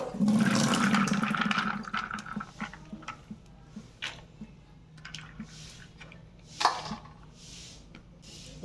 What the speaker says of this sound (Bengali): এবারে আমি এটা শিলে বেটে নেব